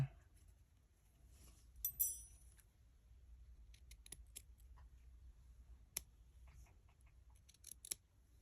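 Scissors snip yarn while making a crocheted amigurumi eye, a few quiet sharp metallic clicks and cuts spaced irregularly over a faint background, no talking.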